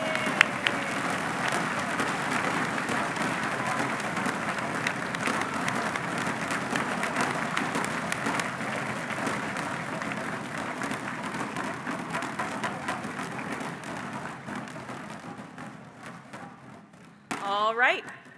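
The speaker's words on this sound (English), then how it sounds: "Give yourselves a round of applause for everything you've accomplished so far" Audience applause at a national middle school maths competition, dense sustained clapping from a large crowd that slowly fades over many seconds before a voice speaks at the end.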